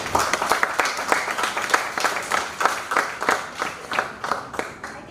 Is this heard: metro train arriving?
no